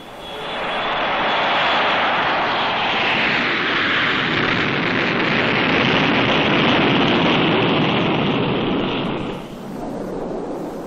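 B-70 bomber jet engines at high throttle give a loud, steady roar that holds for about nine seconds, then dips briefly before continuing slightly quieter.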